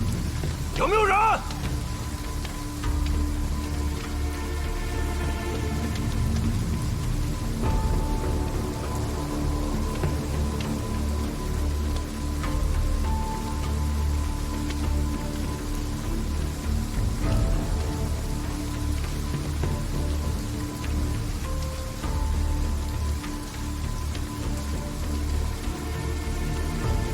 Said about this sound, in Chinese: 这么大雨声，能听见吗？